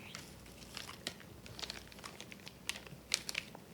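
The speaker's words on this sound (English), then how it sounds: "He's chewing them." Someone chewing food they dislike, with a soft, moist crunching and crinkling close up, irregular bites over a quiet background and no talking.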